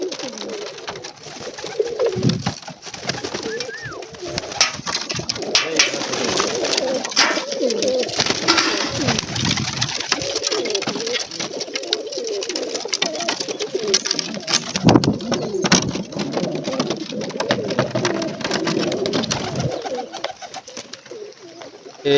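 Pigeons perched at a yard coo continuously in throaty overlapping rolls for over twenty seconds, with scattered clicks, rustles and wing flutters mixed in.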